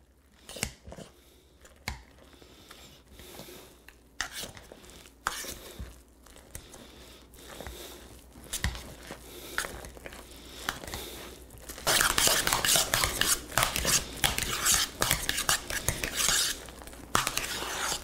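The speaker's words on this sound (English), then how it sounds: "now we're gonna mash that all together until it's nice and smooth" Potatoes and eggs mashed together with a fork in a bowl: irregular squishing, scraping and clinking strokes, growing denser and louder toward the end, with occasional speech between.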